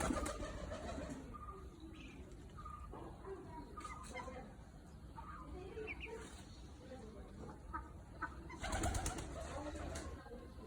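Domestic pigeons at home coo softly in low, repeated calls, partly under people talking and general household background noise.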